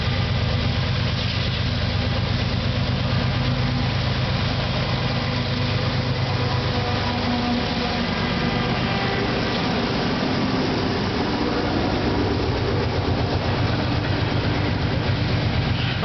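A CP freight train with two locomotives rumbles past at Guelph Junction, a loud, steady low engine drone with rolling wheel noise continuing unbroken throughout.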